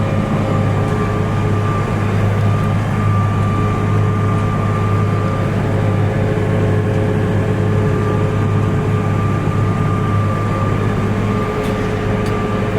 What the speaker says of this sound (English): I was thinking the tractor's a little bit noisy